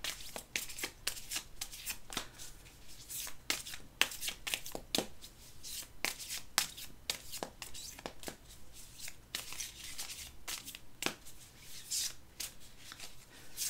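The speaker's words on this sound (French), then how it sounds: "Je m'entoure toujours de bleu quand je bats les cartes et quand je les coupe." Oracle cards being shuffled by hand, a steady run of quick papery riffles and slaps repeating close up for the whole stretch, fairly quiet with no talking.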